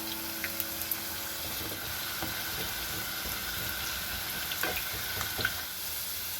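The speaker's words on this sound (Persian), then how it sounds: "حالا سیب زمینی ها رو توی روغن میریزیم تا سرخ بشه." Potato pieces frying in hot oil in a pan for a kaleh gonjeshki stew, a steady broadband sizzle running throughout with scattered crackles and pops, fairly quiet and alone with no talk.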